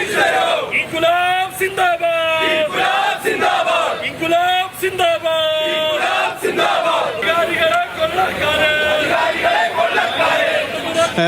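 A large crowd of political party workers gathered at Baby Memorial Hospital in Payyanur chants slogans in loud, rhythmic unison, call-and-response cries repeating over a constant murmur of voices.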